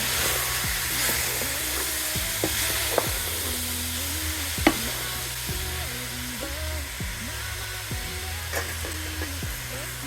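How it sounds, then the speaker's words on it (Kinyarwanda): A spoon scrapes and stirs isombe, cassava leaves cooked with peanuts, in a hot pot, with repeated sharp scraping knocks over a steady bubbling sizzle; no talking. "ubundi ukagaragura"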